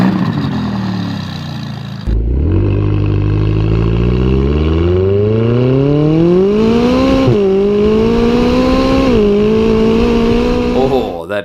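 A McLaren 720S supercar, driven onto a track, revs up loud and close: a deep burst that climbs steadily through the gears with brief shift dips and a sharp crackle at the end.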